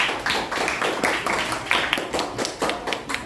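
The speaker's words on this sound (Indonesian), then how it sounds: "Berikan tepuk tangan sekali lagi pada kelompok 4 ya" Classmates clap for a student group after its presentation, a loose, uneven patter of hands from a small group nearby.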